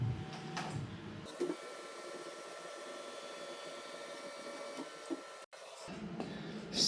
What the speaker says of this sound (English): So what I'm gonna do is reference on my axis.